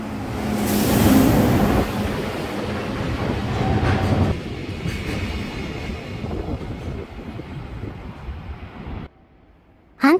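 A freight train rolls slowly through Kobe station on a sharp curve, a loud, steady rumble and rattle of wagons lasting several seconds before cutting off abruptly near the end.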